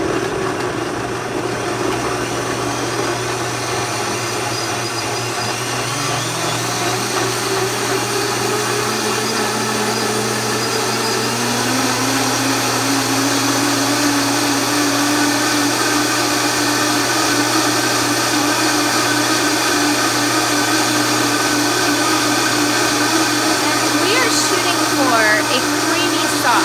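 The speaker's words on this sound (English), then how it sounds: "I turn on my blender." A kitchen blender running continuously on nuts, garlic, maple syrup and lemon juice, a steady loud whirring drone with a rising pitch as the blades speed up, with no talk over it.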